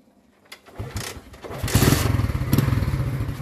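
A motorcycle engine starts up: a few faint clicks and a cranking thump, then the engine catches and settles into a loud, close, rumbling idle with rapid pulsing.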